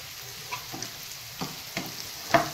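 Asafoetida drops into hot oil in a home kitchen while cooking cauliflower filling for Gopi paratha, giving a faint, steady low sizzle with a few soft stirring clicks and taps, no talking.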